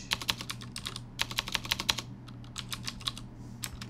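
Someone types a terminal command on a computer keyboard to find a Raspberry Pi GPS serial port, with close, crisp key clicks in quick bursts and short pauses, alone in a quiet room.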